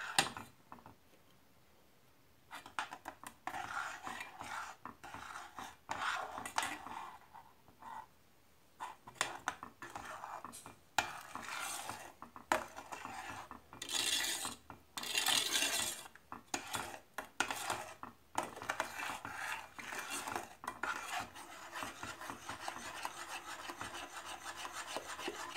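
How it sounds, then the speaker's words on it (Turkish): A spoon scrapes and rubs rhythmically as it stirs pollen into a homemade fondant mixture for bees, producing repeated gritty strokes of varying strength over a long stretch, with short pauses between bouts. "ve karıştırıyorum"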